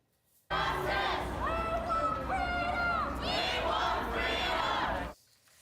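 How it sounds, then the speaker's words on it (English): A protest crowd at a vigil for apartment fire victims chants and shouts in unison, loud and close, in English and Mandarin against China's zero-COVID policy, the Chinese Communist Party and Xi Jinping. The chanting starts abruptly and stops just as suddenly. "The crowd was chanting both in English and Mandarin, shouting in condemnation of the Chinese Communist Party"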